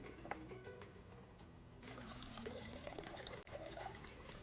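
Water drained off soaked toor dal and chana dal lentils, a continuous soft trickle and pour that grows fuller partway through, close but quiet, with a brief clatter near the end.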